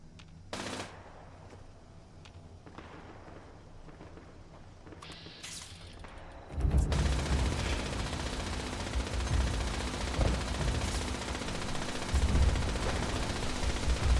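Heavy weapon fire in Fallout 76: after a quiet stretch with a couple of isolated bangs, a loud, dense roar of shooting bursts in and carries on to the end.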